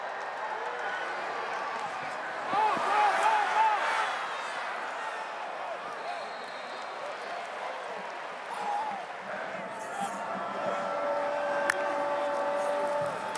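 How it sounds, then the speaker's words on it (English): Stadium crowd at a Maryland versus Michigan State college football game reacts after a punt takes a bad bounce, a broad roar swelling and easing under a play-by-play commentator's voice. "You hear the crowd. They can't believe it."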